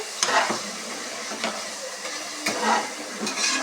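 Tomatoes fry in a pan for chicken biryani, a steady close sizzle broken by a few scraping stirs over about four seconds, with no one talking.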